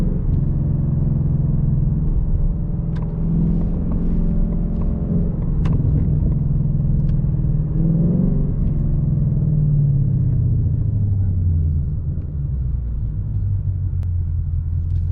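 A 2018+ Ford Mustang GT with a Steeda H-pipe exhaust and Ford Performance calibration roars continuously on a dyno. Its deep rumble holds loud and close, with the pitch sliding down as gears are power shifted, and no one speaks.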